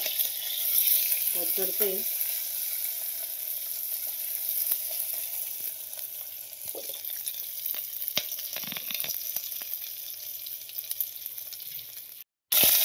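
Garlic fries in hot oil in a pressure cooker while sambar is being made, giving a steady close sizzle throughout with occasional stirring scrapes, brief soft speech and a short dropout near the end.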